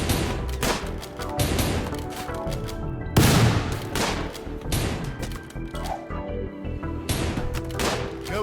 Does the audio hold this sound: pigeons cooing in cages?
no